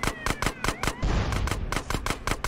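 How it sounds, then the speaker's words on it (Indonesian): Rapid gunfire bursts from GTA San Andreas, loud rhythmic shots repeating about every quarter second, briefly broken by an explosion-like rumble in the middle. "Tuh tembak tuh yang di sana."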